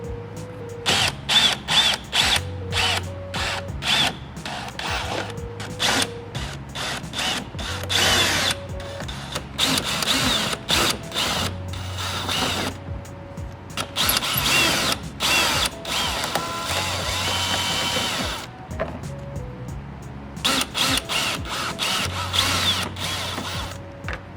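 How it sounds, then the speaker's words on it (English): A power drill removing bolts while installing LED fog lights on a 2012-2019 Toyota Corolla whirs in repeated bursts, revving up and stopping with short pauses and ratcheting clicks between runs, loud and close. "in our case, we're going to be using a power drill"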